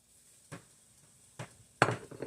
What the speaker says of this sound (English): And I'm going to dump the sausage in there.